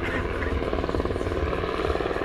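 A Sikorsky UH-60M Black Hawk helicopter of the Slovak Air Force flies at an air show, its rotor beating in a loud, steady, rapid thump over a heavy engine roar throughout.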